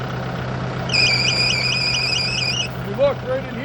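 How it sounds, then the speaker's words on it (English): Broom tractor engine idling steadily with a high, pulsing squeal from a bad belt or pulley over the low hum, the squeal stopping abruptly near the end. "now that it's going, it's got a belt or a pulley squealing."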